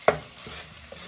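Beef for a black pepper noodle dish frying in a pan, a single sharp clank of stirring at the start followed by a soft, low sizzle, faint and close.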